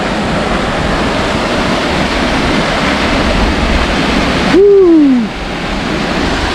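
A waterfall on the river at Parrizal de Beceite rushes loudly and continuously, a dense steady roar of falling water, with a brief whistling tone near the end.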